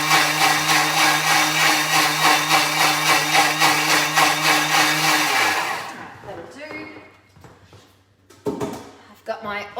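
Thermomix running at top speed 10, blending chicken salad: a loud, steady high-pitched motor whine for about five seconds, then winding down into clatter, thumps and bowl handling with a voice briefly talking.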